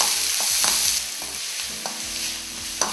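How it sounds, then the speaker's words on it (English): Onions fry in a pan for a samosa filling, a steady close sizzle broken by the scrape and clack of stirring every few moments. "Fry the onions until it becomes a little brown."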